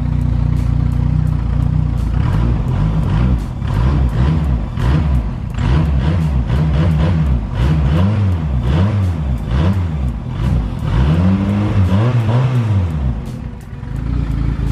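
A sleeved Honda B18 GSR engine running AEM EMS management revs repeatedly on a dyno, each loud sweep climbing and falling in a steady rhythm of throttle blips, up close with no talking.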